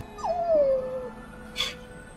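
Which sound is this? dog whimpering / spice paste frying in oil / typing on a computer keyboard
dog whimpering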